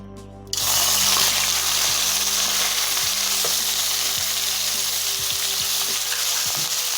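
Boiled turnips hit hot oil and erupt into a loud, sudden, sustained frying sizzle, a dense close hiss with scattered pops and clinks that continues steadily without speech.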